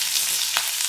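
Dry red chilies sizzle and crackle steadily in hot oil for tempering alongside mustard seeds, cumin and curry leaves, a close, continuous frying hiss with one brief sharper pop.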